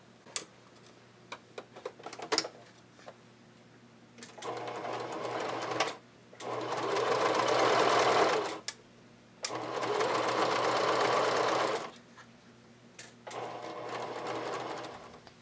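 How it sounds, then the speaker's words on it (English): A sewing machine runs a straight-stitch seam in bursts: three long, steady whirring runs, separated by pauses filled with faint ticks and clicks of fabric handling. It sounds close and fairly quiet, with no talking. "I'm going to sew this together with a 1/2 inch seam allowance and finish my seam with a serger. So just using a straight stitch."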